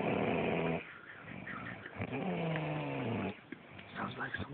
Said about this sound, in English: The most disgusting vile snoring I've ever heard.